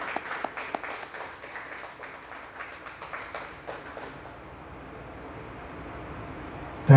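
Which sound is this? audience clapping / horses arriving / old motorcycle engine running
audience clapping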